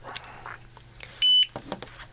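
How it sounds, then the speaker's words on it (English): A ToolkitRC M4 Pocket 80W 4S balance charger gives a short, steady electronic beep as charging begins, a single close tone lasting about a quarter second amid faint handling noise. "And it's beeped, that's just told me it's started charging."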